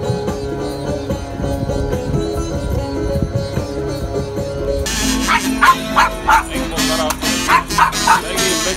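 A dog barks in a few short, sharp bursts, close by and fairly loud, after a stretch of tonal music, on an outing in Saint Petersburg.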